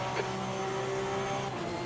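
Race cars in Assetto Corsa Competizione at Monza, in rain, sweep past with a sustained engine whine that holds steady over a broad, hissing wash of noise through a short stretch.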